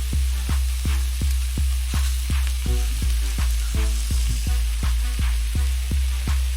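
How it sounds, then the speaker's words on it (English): Chicken and broccoli orzo simmers in a pan with steady, evenly spaced popping and sizzling over a low constant hum, close and moderately loud. "we're gonna let that simmer a little bit"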